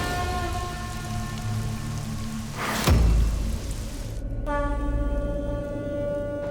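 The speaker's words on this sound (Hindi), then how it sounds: "इतनी मूसलाधार बारिश, दिन में इतना घनघोर अंधेरा।" Torrential daytime rain pours steadily under a dark sky, a dense, constant wash of noise with a loud crash near the middle and steady sustained tones running beneath.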